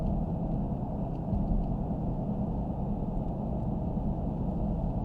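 A 2020 Dodge Challenger Hellcat Widebody on wide tires, driven in street mode, gives a steady low engine and road rumble heard from inside the cabin, continuous and even throughout with no talking.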